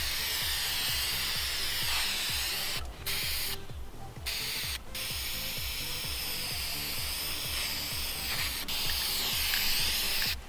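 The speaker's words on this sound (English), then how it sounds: "I'm spray painting everyone else's too" Luggage bags are spray painted, a continuous hissing aerosol spray with a steady rapid rattling, close and fairly loud, broken by a few short pauses and bursts, with no talking.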